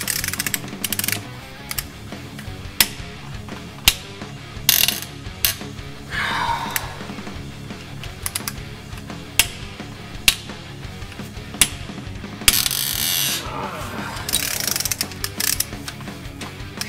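Ratchet wrench loosening bolts during a BMW M52TUB28 engine teardown, sharp repeated ratcheting clicks in short bursts with metallic clanks of tools and parts, close and fairly loud, no talking.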